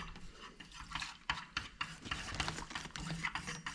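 Melted homemade candle wax being stirred in a cup, giving quiet scraping and tapping strokes in an irregular rhythm, close and soft.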